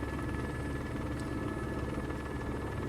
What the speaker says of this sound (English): The helicopter is telling you that you're going fast. Yeah, the blade slap has changed.